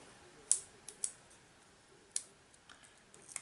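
Scissors snipping a stamped image out of a piece of card: a few quiet, crisp clicks spaced irregularly, faint and close, with no voice.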